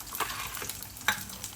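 An egg fries in a pan with a quiet, continuous sizzle and a few small pops and scrapes, heard briefly at low volume without any voices.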